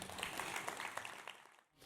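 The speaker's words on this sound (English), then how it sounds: "let me get a round of applause for these three" Audience applause for three speakers at a conference session on carbon capture and hydrogen, a brief burst of scattered clapping at moderate distance that fades out quickly.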